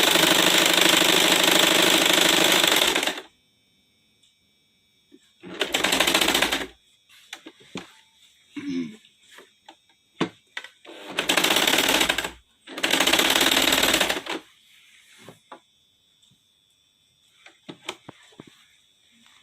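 Sewing machine stitching salwar fabric, loud whirring bursts of a few seconds each, three separate runs with quiet pauses and small handling clicks between them.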